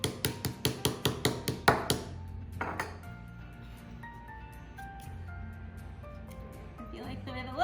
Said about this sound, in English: then I can use the hammer to push it in the rest of the way.